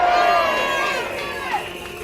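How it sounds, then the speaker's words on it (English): Protest crowd in Trafalgar Square cheering loudly on request, a broad, distant roar of many voices with whoops that gradually tapers off over two seconds. "Give me a cheer!"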